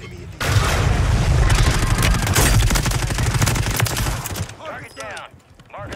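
Sniper rifle fire in Call of Duty Warzone, a dense burst of loud cracks and booms packed together for about four seconds, then tapering into sparser shots and mechanical clatter with faint voices.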